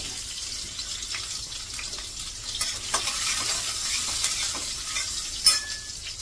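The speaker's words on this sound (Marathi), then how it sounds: "थोडंसं लसूण परतू देते आणि लगेच कांदा टाकते" Garlic and onion fry in oil in a pan with cumin, a steady close sizzle with occasional stirring scrapes and clinks against the pan.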